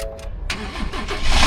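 A Ford F-150 pickup truck engine cranks weakly, sounding low on battery, then catches and rises into a loud, steady running rumble that grows toward the end.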